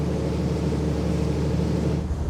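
A boat engine rumbles steadily at the bow of a ship heading toward Tatsunoshima island, a low continuous drone mixed with wind and water rushing past, with no voices.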